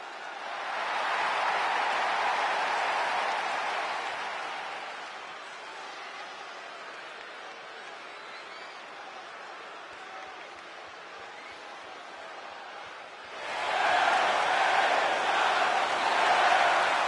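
Crowd cheering in the WWE 2K26 wrestling video game for L.A. Knight, a broad arena roar that swells, eases to a steady murmur, then surges loud again, with commentary voices over it.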